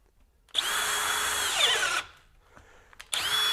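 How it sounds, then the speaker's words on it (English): A Hercules HCB92B 20V hammer drill with an aggressive 1-inch auger bit boring into wood, a loud, close, steady whine that bogs down and drops off, then restarts briefly. "So now we're going to step up to a 1-inch auger bit. It's a pretty aggressive one."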